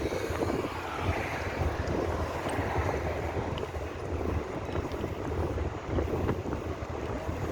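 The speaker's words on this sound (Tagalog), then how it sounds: "Medyo malalakas ang hangin na mainit-init pero kaya naman guys." Strong, warm wind roars steadily across the microphone outdoors in an industrial area of Qatar, a loud, constant rumbling buffet with no voices.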